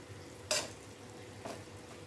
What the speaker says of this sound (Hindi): इसको भी मैं 10 मिनट तक फ्राई करूँगी।